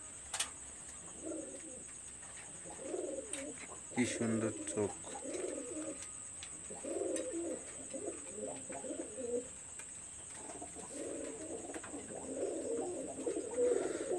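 Pet pigeons, including a pair of young male high-flyer birds, coo softly in repeated throaty bursts close by, while a person speaks briefly over them.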